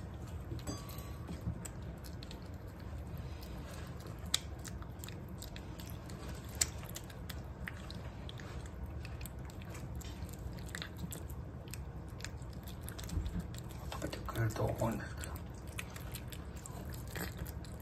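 A very young, still nursing kitten eats food up close, with soft, wet, rapid chewing and small bites ticking along steadily in a quiet room.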